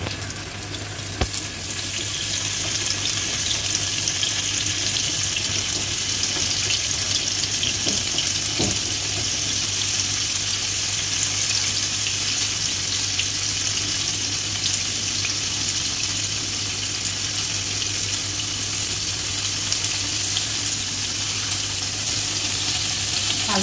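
Paneer pieces dusted with garam masala frying in oil in a pan, a dense, steady, close sizzle that barely changes, with a couple of faint clicks and a low hum beneath, no talk.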